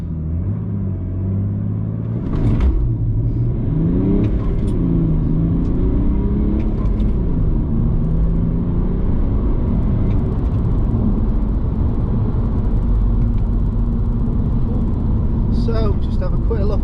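Remapped BMW E91 330d diesel estate with DPF, EGR and swirl flaps deleted, accelerating hard in a timed drag run, its engine drone rising and falling steadily through gears as a loud continuous rumble heard from inside the cabin.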